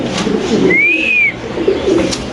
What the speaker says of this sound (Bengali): এখানে আছে একটা শৌখিন কবুতর